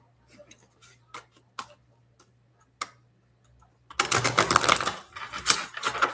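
Tarot cards being shuffled: a few soft, sparse taps and flicks at first, then a dense, close riffling burst of cards for the last couple of seconds, no talking.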